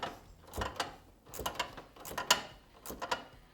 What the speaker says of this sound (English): now we'll tighten down our last pinch bolt